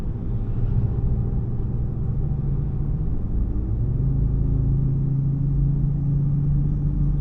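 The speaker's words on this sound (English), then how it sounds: "You can hear that Volvo 5-cylinder." A Volvo five-cylinder engine drones loudly and steadily from inside the moving car, its low rumble shifting slightly in pitch partway through, no talking.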